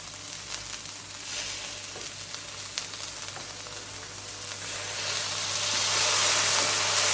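Pork liver and ginger stir-fry in a pan with soy sauce and oyster sauce, crackling with a continuous sizzle that grows brighter and louder toward the end, mixed with the scrape of stirring.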